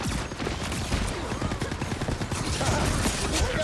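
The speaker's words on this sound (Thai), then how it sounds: "ตัวอะไรมันยิงไกลๆ" Rapid bursts of gunfire from the hero shooter Marvel Rivals, dense and continuous with overlapping shots and battle noise throughout, a voice faintly in the mix.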